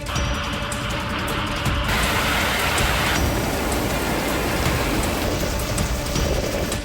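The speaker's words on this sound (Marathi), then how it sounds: "विदर्भातही दमदार पाऊस होतोय" Heavy monsoon rain pours down in a dense, constant hiss in Maharashtra, with a loud, steady downpour and no voices.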